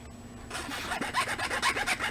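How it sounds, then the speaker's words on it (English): A drill bit held inside a rasp-like file grinds down a rough top surface, giving a steady, close scraping rasp with rhythmic strokes after a brief quiet start. "to file the top off of that rough surface on the top there, placing the drill bit inside and just holding it against that"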